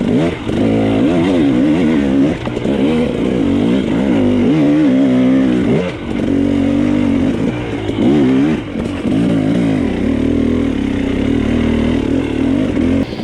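A dirt bike engine on a downhill hard enduro trail in the 2020 SEER Cliffhanger Hard Enduro race, revving and blipping in uneven bursts with brief dips between throttle stabs, close and loud throughout.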